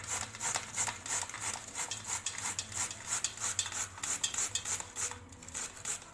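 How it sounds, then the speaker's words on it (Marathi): Beetroot is scraped across an old, sharp hand grater in quick, repeated strokes, a close rasping rhythm of short scratchy pulses that carries on steadily without pause. "आपण आता किसून घेऊया"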